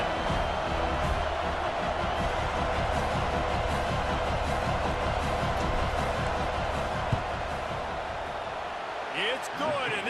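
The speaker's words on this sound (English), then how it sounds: "This crowd trying to do its part to get inside the kicker's head." Steady roar of a stadium crowd in College Football 26 as the kicker lines up a field goal, a dense continuous wash of noise holding loud throughout before easing slightly near the end.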